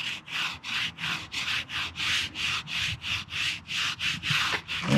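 A brush strokes along a wild animal's back during grooming, producing a near, even series of about a dozen rhythmic rasping sweeps, each a second or less, alone without any talk.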